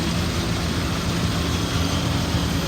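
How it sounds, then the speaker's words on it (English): A 2002 Dodge Ram 3500 utility truck with a 5.9 liter gas engine idles with a slight misfire, a steady, loud, close rumble with no other sounds. "It revs up well, but it's got a slight misfire on idle."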